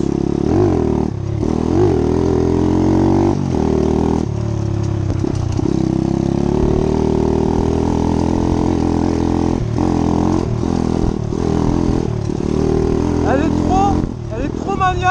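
A motorcycle engine putters and revs unevenly close by on a dirt trail, with small bumps and rattles, while someone talks over the ride.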